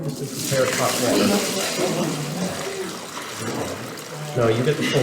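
Hot water is poured into a basin for a footwashing during a Maundy Thursday church service, a steady splashing running beneath continuous nearby talk.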